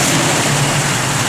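A 1968 Chevrolet Camaro with an aftermarket cam, running on pump gas, idles with a loud, close, steady engine rumble throughout the short stretch, with no speech.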